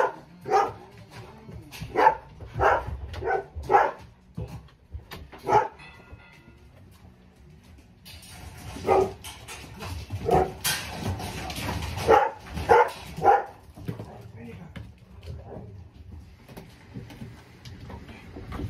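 Greyhounds in a training kennel bark in a run of short, sharp yelps, clustered in bursts with brief pauses between, fairly close and loud over a low background rumble.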